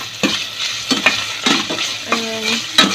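Rendered pork fat fries and sizzles in a pan with a steady crackle, broken by several stirring scrapes and clinks of a utensil against the pan, close and loud with no voices.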